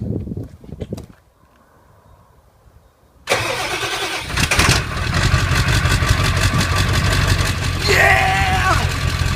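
A starter cranks briefly and a Ford 7.3 Powerstroke diesel truck engine with a custom downpipe roars to life, then settles into a loud, steady idle close by.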